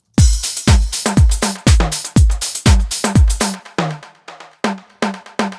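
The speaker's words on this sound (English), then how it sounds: "It's a tom from the 626 drum." Punchy electronic tom hits from a 626 drum machine repeat in a steady, driving rhythm, each one a booming low thump with a bright attack, loud and dry with no voices.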